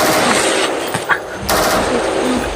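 Close, loud gunfire rattles in dense rapid bursts during a firefight with a sniper, forming a harsh continuous roar with sharper blasts cutting through.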